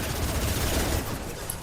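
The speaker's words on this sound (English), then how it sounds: "Firing a high impact shot." A high impact shot fired in Mass Effect 2 crackles as a dense, continuous burst of gunfire-like noise lasting under two seconds, steady and moderately loud with heavy low-end rumble and no talk.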